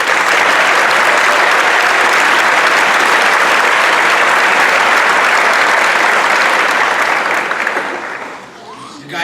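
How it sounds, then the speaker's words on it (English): Sustained, loud audience applause at a Grade 8 recognition day school ceremony, a dense steady wash of many hands clapping that fades out near the end. "I'd like to take this opportunity to give a round of applause"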